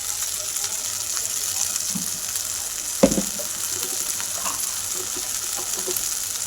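Spice paste with a pinch of turmeric frying in a pan for a bombil and potato curry, a steady soft sizzle with a brief clatter of stirring midway.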